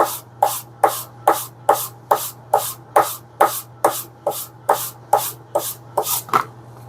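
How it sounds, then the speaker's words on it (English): Sandpaper rubbing along the edge of a leather piece, steady back-and-forth strokes, about fourteen even rasping passes at a regular rhythm, close and clear with no talking, alongside a faint low hum. "doing that sandpaper to flatten it out, it's almost burnishing it already"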